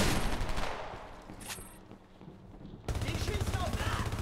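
Bursts of rapid gunfire ring out in the shooter video game Homefront during a multiplayer match, loud automatic fire at the start and again near the end, with a quieter gap between and a voice talking.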